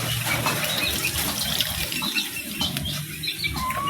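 Thick coconut milk strained from grated cassava pulp by hand, liquid trickling and splashing steadily at close range with faint bird calls in an outdoor kitchen.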